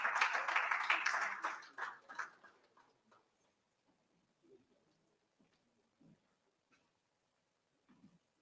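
A conference audience in London applauds a welcomed guest: dense clapping that is loudest at the start and fades over about two seconds, leaving a few faint scattered sounds.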